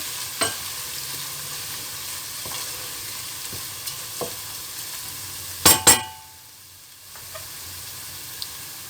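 Fried tomato paste seasoned with black pepper and salt is stirred in a pan: a low bubbling sizzle under sporadic spatula taps, then a loud double clatter of utensil on the pan before the sizzle softens.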